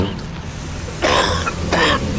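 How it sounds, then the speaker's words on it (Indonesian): Two harsh coughs ring out close by, a short pause between them, over a low steady background hum. "suara batuk-batuk itu"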